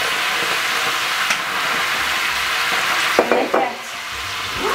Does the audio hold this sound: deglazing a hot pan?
yes